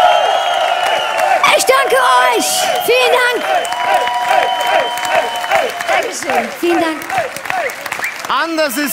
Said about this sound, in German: Nochmal einen riesen Applaus.